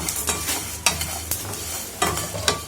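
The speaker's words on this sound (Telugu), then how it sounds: "కొంచెం జాపత్రి, 2 మరాఠా మొగ్గ, సగం చెంచా జీలకర్ర. దోరగా వేయించుకుందాం." Mace, cloves and cumin dry-roasting in a pan, a steady close crackle and scrape of stirring with a few sharper knocks of the spoon against the pan, no voices.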